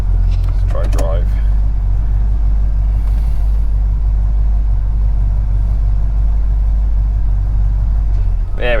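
A classic Pontiac car with new brakes and starter is shifted into drive, its engine idling in a steady low rumble close by, with a brief clunk and squeal near the start and talk over it.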